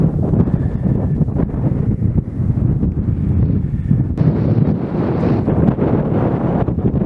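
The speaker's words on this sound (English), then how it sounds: "it's quite blustery here. I'll face into the wind now." Strong wind buffets the microphone on open Dartmoor moorland near a china clay works, a loud, continuous roaring rush with gusty swells and no talking.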